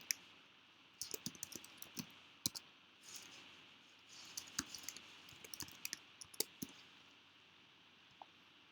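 A computer mouse clicks in scattered single and double clicks, close but quiet against a faint steady background hiss, with no talking.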